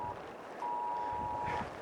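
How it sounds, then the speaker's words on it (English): A cell phone alarm beeps outdoors on a mountain hike trail, a short thin electronic tone that sounds once briefly and then holds for about a second, faint over soft wind. "And we just got the alarm going off on the cell phone"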